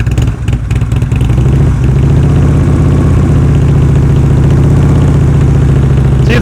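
A motorcycle engine rumbles loud and close during slow-speed riding practice, holding a steady low idle-like throb with mechanical clatter and no talk over it.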